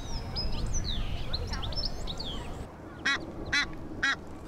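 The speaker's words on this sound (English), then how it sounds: "Some Egyptian geese have had another family." Egyptian geese in a London park give three short, harsh honking calls near the end, above faint background bird chatter and park noise.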